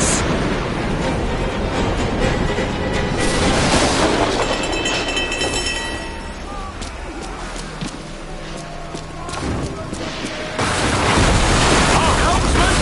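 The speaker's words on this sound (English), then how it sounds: "Man the cannons!" Ship cannons firing aboard a sailing vessel during a naval battle in Assassin's Creed IV Black Flag, heavy booms among crashing waves, wood and battle noise, with loud shouted voices over the din.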